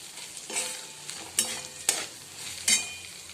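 Poha being stirred and sautéed in a pan, with a few distinct scraping strokes of the spoon against the metal over a light sizzle, close and fairly quiet, with no one talking.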